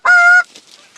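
A goose gives one loud, close honk during a waterfowl hunt. The honk is a sustained nasal call lasting under half a second, followed by quiet outdoor background.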